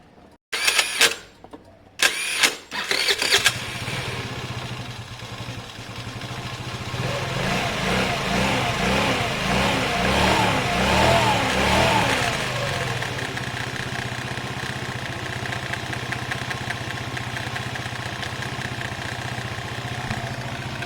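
A moped-style motorcycle cranks over with a few sharp bursts, then settles into a steady, continuous idle that stays close and fairly loud, a rough buzzing drone running on alone without speech.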